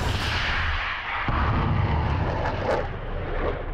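A powerful, continuous roaring blast from a Tor air-defence missile launch fills the air, dense and rumbling with a crackling edge, steady and loud throughout like a rocket engine firing nearby.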